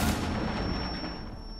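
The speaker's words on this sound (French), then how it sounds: "Grenade." A grenade blast in Rainbow Six Siege: a loud, close, broadband boom at the start with a long rumbling decay, and no voices over it.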